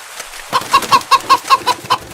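A voice imitates a rooster or chicken with a quick run of eight sharp, evenly spaced clucking calls, loud and close, with no other sound around them.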